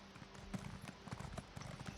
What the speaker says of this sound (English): When you're sprinting with your horse, like I constantly do